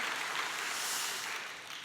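A church congregation claps for its choir during a Sunday service, a brief, steady wash of applause from the room, fairly soft and heard alone.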